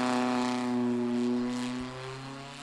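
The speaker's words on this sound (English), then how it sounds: "So forklift-powered front-engine dragster of Will Byer to the left-hand side." A vintage forklift-powered 4-cylinder front-engine dragster races down the drag strip with a loud, high-winding, droning engine note that holds steady before dropping off slightly as it passes.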